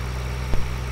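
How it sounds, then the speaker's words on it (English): A pallet fork tractor idles in a farming video game, giving a steady low engine rumble throughout with one brief thump in the middle and no talk. "have you checked the pallet fork tractor and make sure it's got plenty of fuel?"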